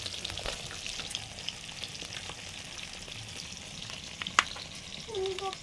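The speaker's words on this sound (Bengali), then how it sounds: "মাছগুলো ভাজা হচ্ছে" Freshly caught pond fish fry in a pan with a soft, continuous crackling sizzle and occasional sharper pops, fairly quiet and close, with no talking.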